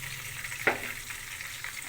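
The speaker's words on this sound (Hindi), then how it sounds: "आधा कप ऑयल में मैंने 4-5 जवे लहसुन की चॉप करके डाल दी।" About four or five chopped garlic cloves fry in half a cup of oil, a soft steady sizzle with one brief sharper crackle near the start, faint and close with no talking.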